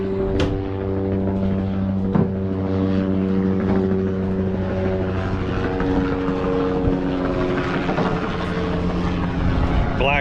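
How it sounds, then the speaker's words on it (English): Black helicopters thud overhead with a loud, sustained rotor drone that holds steady throughout, with brief sharp knocks and noise swelling near the end. "Black helicopters."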